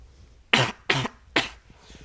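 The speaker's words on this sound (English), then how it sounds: "Excuse me, I still have a cough." A person coughs three times in quick succession. The sharp bursts are close and evenly spaced, with a quiet room in between.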